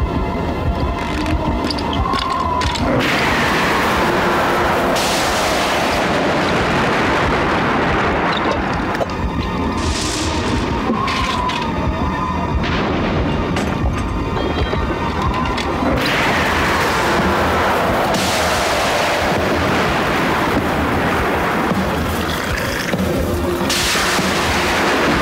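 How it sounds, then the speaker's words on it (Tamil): A sudden stormy wind roars steadily and loudly for the whole stretch, with dense rushing noise that swells in several gusts. No voices are heard. "இது சாதாரண காத்துல புயல் காத்து மாதிரி இருக்கு."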